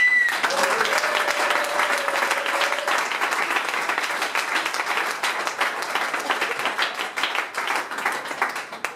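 Audience applause for moderator Jan at a live event, a dense, steady wash of many hands clapping that holds loud for the whole stretch and thins slightly near the end, with a brief tone early on.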